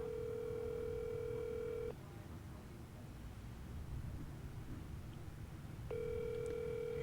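A telephone ringback tone plays over a speakerphone, two long rings separated by a quiet gap of about four seconds, steady and clear above low room noise.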